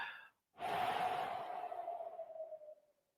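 A slow, long exhale of breath for relaxation, a soft airy rush that swells after a short pause, holds steady and then gradually fades away over about two and a half seconds, close and alone.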